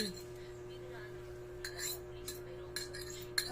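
A utensil stirs beaten egg into sautéed bitter gourd in a pan, making several light metallic clinks and scrapes over a steady low hum.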